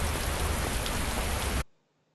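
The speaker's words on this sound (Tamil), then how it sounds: "ஐயோ, மழை வர வந்துருக்கு." Steady rain in a GTA V style driving game, an even hiss of downpour that stays dense and constant, then cuts off abruptly, leaving near silence.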